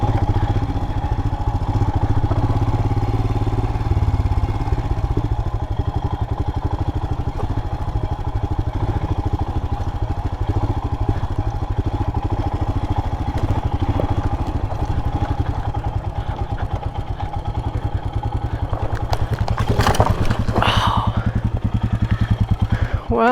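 A Royal Enfield Himalayan motorcycle rides off road toward a canyon, its engine thrumming steadily and close up under rattling, clattering noise, with a sharp burst of clatter near the end.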